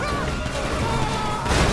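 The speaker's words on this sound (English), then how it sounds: "You crashed!" A car smashes into something in the video game GTA V, a loud crunching impact bursting out at the end over a rumbling engine and road-noise background.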